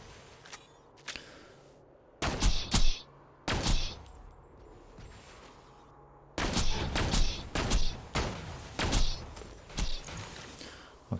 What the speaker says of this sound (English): I'll keep shooting with the sniper until the slag wears off